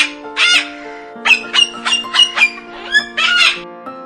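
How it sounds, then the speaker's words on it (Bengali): A dove calls in a quick series of bright, short chirping notes, some grouped in bursts and others spaced out, loud and close over a steady musical backing. "ঘয়ে ঘুঘু পাখি।"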